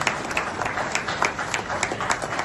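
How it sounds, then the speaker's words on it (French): Audience applause at a political gathering, dense steady clapping from a crowd with sharp individual claps throughout, fairly loud and sustained. "Est-ce que nous pouvons encore applaudir"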